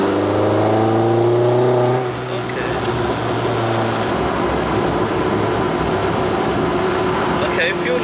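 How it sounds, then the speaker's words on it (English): A tuned VW Polo 6N2 with a 1.8T 20v turbo engine held under gentle load during a mapping session, a steady droning hum with a low tone that fades out partway, loud and continuous, with people talking over it. "Go on, put a little bit of load on the engine,"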